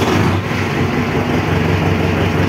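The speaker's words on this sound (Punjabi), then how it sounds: "ਲੋ ਬਾਬੇ ਟਰੈਕਟਰ ਨੂੰ ਕਰਦੇ ਹਾਂ ਸਟਾਰਟ" A 5911 tractor's diesel engine rumbles loud and close, a steady low throbbing drone with no pause or voices over it.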